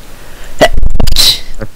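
A single loud, close sneeze bursts out with a sharp intake and explosive release, alone without talk.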